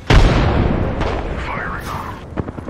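A frag grenade explodes in the Apex Legends game with one loud, sharp burst near the start, then a long rumbling tail and scattered game noise. A voice speaks over it.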